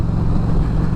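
A Harley-Davidson Road King motorcycle with a stage 1 engine rumbles at a steady low throb, loud and close, in a short burst with no talk over it.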